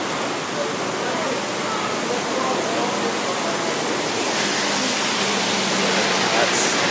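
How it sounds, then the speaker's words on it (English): Hard rain pours down beside temporary scaffolding in a steady, loud, wide hiss of spattering water that does not let up, with a voice briefly heard over it. "Hard rain right there."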